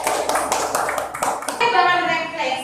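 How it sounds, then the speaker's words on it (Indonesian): A school class claps hands together, a short burst of dense clapping with a voice speaking over the latter part. "Tepuk tangan untuk kita semua."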